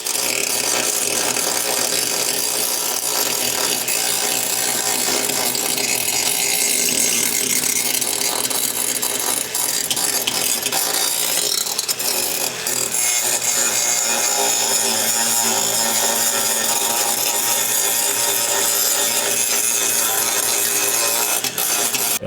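An angle grinder fitted with a coarse 40 grit flap disc works the metal firewall of a 1937 Lincoln Zephyr, giving a continuous, loud abrasive grinding roar that holds steady for the whole stretch with no talking.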